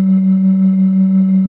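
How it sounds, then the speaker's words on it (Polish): Synthesizer tone from the Sample One sampler in Studio One 5, its volume pulsed by an LFO tremolo at about 5 Hz: one steady, loud, low sustained note wobbling rapidly for about a second and a half, then cutting off. "Następnie wprowadzimy tremolo, modulując za pomocą LFO o częstotliwości około 5 Hz wzmocnienie dźwięku"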